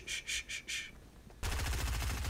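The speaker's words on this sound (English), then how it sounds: "I am on a roll with this SMG." SMG gunfire in the Fortnite video game: a few short bursts of shots, then a sustained rapid stream of fire, fairly quiet and with no speech over it.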